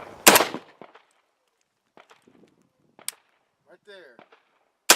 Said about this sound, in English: the AK is it has a pretty pronounced reset. You're going to hear a loud click or twang